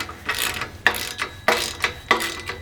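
A ratchet turns the tension bolt on an ALTA rack assembly, giving repeated rhythmic bursts of rapid clicking, about five strokes in a steady back-and-forth pattern, close and clear with no speech.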